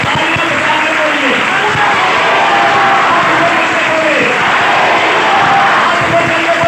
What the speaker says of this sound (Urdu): تالیاں بجا کے بولیے